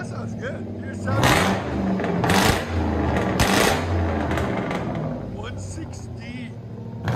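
A Mercury Grand Marquis 4.6L V8 revs its exhaust in a few loud, rising bursts over a steady low idle rumble, with people talking nearby.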